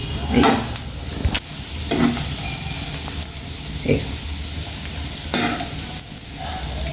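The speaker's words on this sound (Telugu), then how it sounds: "కలుపుతూనే ఉండాలండి కలుపుతుంటేనే మంచిగా ఫ్రై అవుతుంటుంది" Egg and onion frying in a pan, a steady sizzle with repeated scrapes and stirs of the spatula every second or two, close and fairly loud, no talk.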